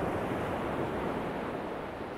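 Sea surf washing onto the shore, a steady broad roar of breaking waves at close range with some wind noise over the microphone, continuous and unbroken.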